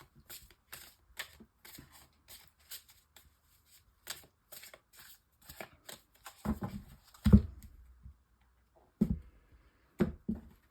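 A deck of golden tarot cards is shuffled by hand, giving a quick rhythmic series of crisp riffling flicks, close and quiet, then a few heavier taps and thumps as the deck is squared, with no voices.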